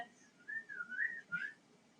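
A person whistles a short wavering tune, a few sliding notes with brief gaps, close and fairly quiet, no talking.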